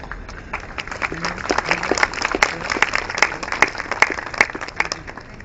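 An audience claps after a lecture on successful aging, with steady, moderately loud applause from many hands that keeps an even, dense rhythm throughout.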